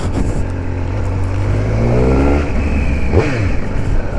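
A 2021 Triumph Speed Triple RS motorcycle accelerates hard, its engine note climbing through the revs, dropping at a gear change, then rising again, loud and close.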